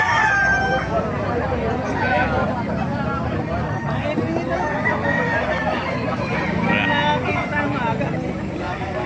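A gamefowl rooster crows amid loud crowd babble and nearby voices, its call partly buried under the constant chatter.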